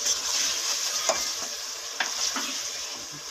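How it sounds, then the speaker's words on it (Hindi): Masala for aloo bharta sizzles in oil in a pan, a bright steady frying crackle with a few scraping stirs of a spoon cutting through. "ये देखिए हमारा मसाला भुन गया है, ये सारा ऑयल भी ऊपर आ गया है"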